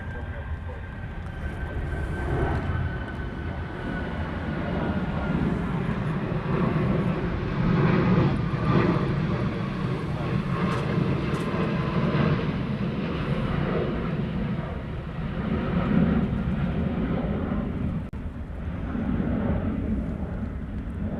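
Jet airliner at Honolulu airport, a Qantas plane moving on the runway, gives a continuous distant engine roar that rumbles and swells over about twenty seconds, with some wind noise and faint talking.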